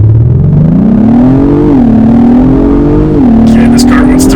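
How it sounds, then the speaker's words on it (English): An Acura MDX Type S SUV launches hard from a standstill, its engine note loud and close as it climbs steadily in pitch through the gears, with a brief dip at each shift. "I'll put my foot on the brake here, and then we'll punch it"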